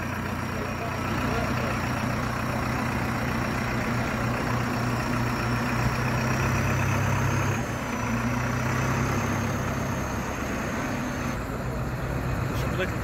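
A heavy turbocharged tractor engine runs steadily nearby with a low rumble and a faint high turbo whine, its tone shifting slightly as it idles and revs.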